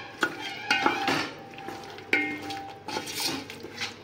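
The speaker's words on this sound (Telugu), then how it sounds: "మసాలాలు వేసుకున్నాక బాగా మిక్స్ చేసుకోవాలి చికెన్." Country chicken being stirred and mixed with masala spices for biryani in a metal vessel, with a spoon scraping and clinking against the pot in irregular strokes, fairly close and moderately loud, no talking.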